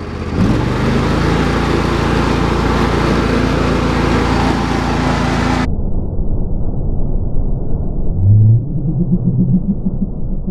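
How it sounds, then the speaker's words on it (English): A tractor engine runs steadily through a donut, a loud continuous drone with a rumbling low end that shifts and drops in tone partway through, with no talk. "Do a donut on a tractor."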